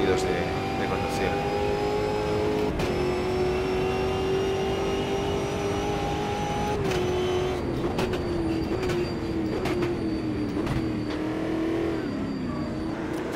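A stock car racing in the Automobilista 2 game, its engine a loud, steady drone that rises and falls in pitch through gear changes and corners, with someone talking over it.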